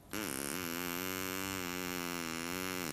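Steady reedy buzzing tone from a flattened drinking straw blown like a reed, starting abruptly and holding one rich, harmonic pitch for about three seconds with a slight waver, close and alone.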